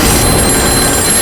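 Loud, shrill electronic telephone ring, brief and continuous, sounding close.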